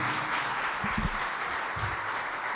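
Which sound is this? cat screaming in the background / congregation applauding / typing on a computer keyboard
congregation applauding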